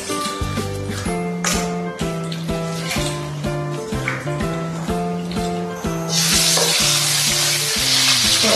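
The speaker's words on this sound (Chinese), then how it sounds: "调色炒香" Diced eggplant stir-fried in a wok, a close crackling sizzle with stirring that swells louder toward the end.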